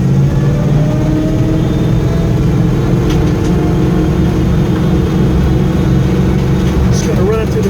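A 1972 Ford Bronco's engine drones steadily from inside the cab while driving, a loud continuous low rumble with rattles.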